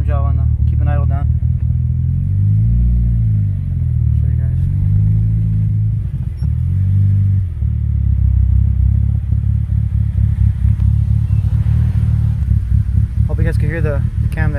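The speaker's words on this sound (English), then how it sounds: "Just the way it idles. Perfect idle too, by the way." A Mitsubishi Evo with an aggressive cam and exhaust idles with a loping, lumpy rumble close by, while someone talks over it throughout.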